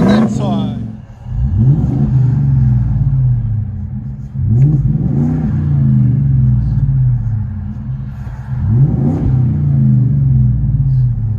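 A Ford F-350 with a 7.3L gasoline V8 and true dual exhaust revs hard three times, each deep exhaust roar rising then settling into a rumbling idle between pulls.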